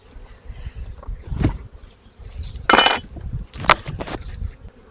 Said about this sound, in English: They are out here buzzing away.